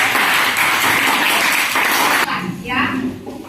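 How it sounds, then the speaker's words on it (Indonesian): Classroom students clapping together for a group presentation, a dense burst of applause filling the room before it cuts off abruptly, followed by a teacher's voice and quieter room noise. "Tepuk tangan dulu untuk"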